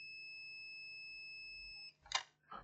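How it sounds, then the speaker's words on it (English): A multimeter in diode mode emits a steady continuous beep while probing pin 8 of a BIOS chip on a laptop motherboard, then cuts off, followed by two short rustling handling noises. "Diode mode, pin number 8 is beeping to ground."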